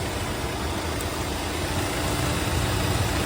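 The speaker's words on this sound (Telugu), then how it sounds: "ఇంజన్ చాలా సైలెంట్ ఉంది" A 2019 Hyundai Creta SX manual diesel idles with a steady, even engine drone at close range. The tone is smooth and constant with no people talking.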